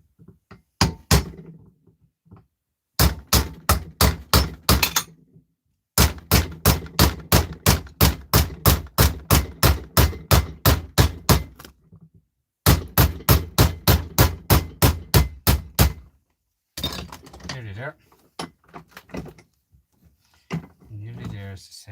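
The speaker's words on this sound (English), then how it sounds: "Get your hammer" Hammer and chisel strikes while working on a shed, a loud, steady run of sharp metallic blows in fast rhythmic bursts separated by short pauses, ending in some scraping and handling noise.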